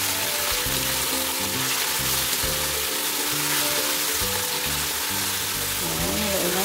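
Beef dropped into a hot pan with sautéed garlic and onion, giving a steady, loud sizzle and crackle of frying meat close by.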